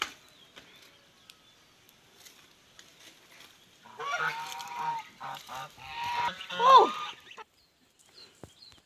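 Geese honk in a short burst of loud, overlapping calls midway through, preceded and followed by near silence with a few faint clicks.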